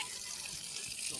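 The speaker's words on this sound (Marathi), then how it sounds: "तर आता लेवल करून मस्त पाणी मैदानाला मारतोय आणि वरती नाळा फिरवतोय" Water sprayed steadily from a hose over a levelled village cricket ground, a continuous close rushing hiss that holds even throughout without breaks.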